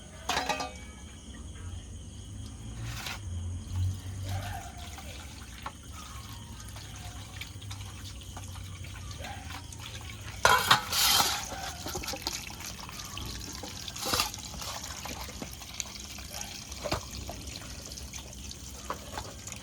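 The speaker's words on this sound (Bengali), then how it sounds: "মাংসগুলো ভালো করে বাছা হয়ে গেছে এবার ধুয়ে নেবো" Tap water runs over raw chicken being washed in a sink for biryani, a continuous soft stream with occasional clattering splashes and handling noises, loudest in a burst about midway.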